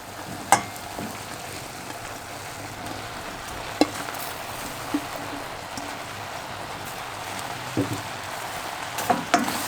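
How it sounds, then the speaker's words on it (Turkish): Eggplant stirred into sautéing peppers and tomatoes in a pan gives a steady soft sizzle, with a few sharp utensil clicks and scrapes scattered through it. "Patlıcanımı koyduktan sonra tam 7 dakika soteledim"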